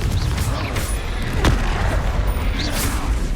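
Confringo explosive fire spell from Hogwarts Legacy, loud rumbling blasts with a sharp crack in the middle amid continuous heavy combat noise.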